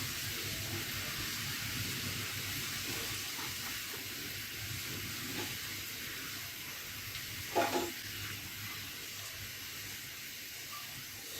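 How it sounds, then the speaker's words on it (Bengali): Small pieces of samosa dough sheet deep frying in hot oil, a steady broad sizzling hiss throughout with one brief louder burst of bubbling near the end. "এখন আমি এই ছোট ছোট টুকরো শিটগুলো তেলে ভেজে নেব।"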